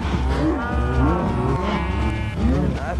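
Cows in the video game Minecraft moo in several overlapping, drawn-out, loud lowing calls close by, one after another with almost no pause between them.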